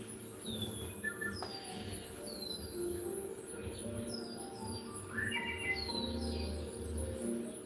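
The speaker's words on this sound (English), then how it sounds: "You hear the birds playing." Birds chirp and tweet in a room next door, several thin, rising calls scattered across the stretch, faint and indoors over a low steady hum.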